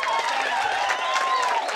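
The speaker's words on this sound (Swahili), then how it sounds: "Asante, tumpigie makofi" Applause and clapping from a crowd gathered at an outdoor community event, steady and fairly loud throughout, mixed with cheering and sustained tonal voices carrying over the clapping.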